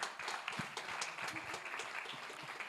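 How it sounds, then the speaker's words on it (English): A crowd applauds finalist Easy Equities from South Africa at a fintech challenge semi-final, with dense, steady clapping running the whole time and no voices over it. "A huge round of applause for Easy Equities"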